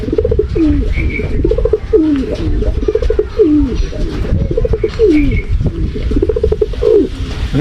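Pigeons coo in a steady, repeating series of low, throaty rolls, loud and close, amid constant patter and hiss from rain, with faint chirps above.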